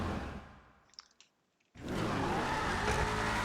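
Ruiner ZZ8 car in a GTA video game: a fading engine note, a few clicks and near silence, then an abrupt loud surge of sustained engine roar as the car drives off.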